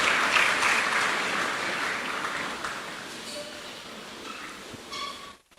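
A church congregation applauding after a sermon reading, a sustained round of clapping that is loudest at first and slowly fades, with some faint voices mixed in.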